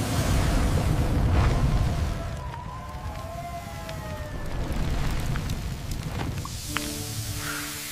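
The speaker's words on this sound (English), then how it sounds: "Necessary to put this fire out. Maximum pressure." A cartoon fire hose sprays a fire at maximum pressure, a loud, dense rushing roar that continues steadily throughout, with a brief electronic siren-like tone entering near the end.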